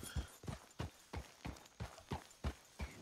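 Horse hooves clip-clopping at a steady walking rhythm in Red Dead Redemption 2 (RedM), about nine evenly spaced, fairly close hoof falls with nothing else over them.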